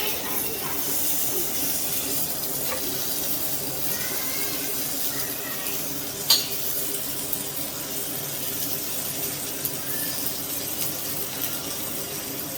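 Shawarma frying in a generous amount of butter in a pan, a steady close sizzle and hiss throughout with a few faint clinks and a soft voice speaking lightly beneath.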